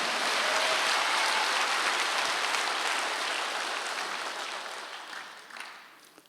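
A church congregation at a Sunday service claps together in a dense, steady wash of applause that slowly fades over several seconds.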